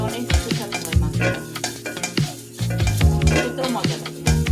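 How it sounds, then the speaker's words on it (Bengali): Cumin frying in a hot pan is stirred briskly, with a soft sizzle under repeated scraping and clinking of a utensil against the metal, busy and close throughout. "আমার জিরা ভাজাটা প্রায় হয়ে গেছে।"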